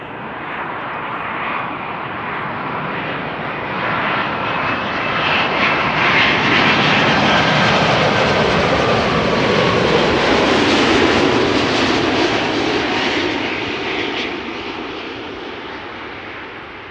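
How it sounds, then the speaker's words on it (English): An Air Europa Boeing 787 Dreamliner arriving at Schiphol from Madrid gives a loud, steady roar of jet engines that swells toward the middle and eases slightly at the end, with no voices. "Air Europa arriving from Madrid. 7878 Dreamliner."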